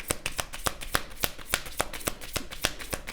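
Tarot cards being shuffled, a close, crisp, evenly paced series of riffling slaps repeating about three times a second.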